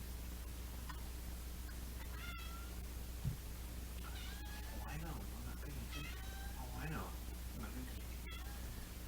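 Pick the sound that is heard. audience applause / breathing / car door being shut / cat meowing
cat meowing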